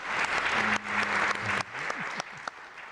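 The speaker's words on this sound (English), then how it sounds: "Round of applause for all four of our interlocutors today." Conference attendees at an energy forum applaud their panelists, brisk, fairly dense clapping that thins out toward the end, with a voice speaking over the start.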